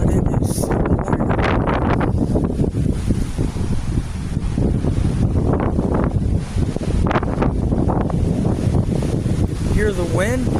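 Strong gusting wind picking up ahead of a tornado touchdown in Hastings, roaring steadily and buffeting the microphone throughout with a constant rushing noise and rustling trees.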